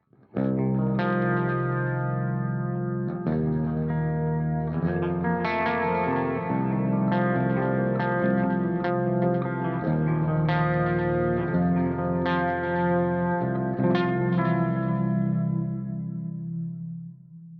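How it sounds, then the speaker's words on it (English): Clean electric guitar through a processor preset with plate reverb and quad-tap multi-delay, playing sustained chords and melodic notes, washed in lush reverb and repeating delay echoes, steady and full throughout. "I've got the Plex reverb on, and I've got the same quad tap multi-delay"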